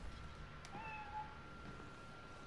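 A cat meows in the video game Spider-Man: Miles Morales, one faint short meow over quiet game ambience with no talking.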